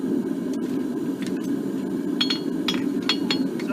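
A farrier taps a hot horseshoe on an anvil with a hammer, giving a handful of light, sharp metallic strikes that cluster toward the end over a low steady background hum.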